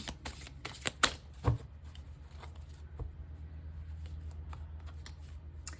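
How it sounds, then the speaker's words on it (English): Tarot cards, some foiled, being shuffled by hand, a run of quick papery riffles and flicks near the start and then softer, steady card rustling throughout, with no talking. "All right, let's pull some tarot."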